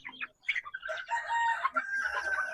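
Young chicks of mixed breeds, including red asil crosses, chirp and peep in quick, overlapping calls close by, busy and continuous with no talking.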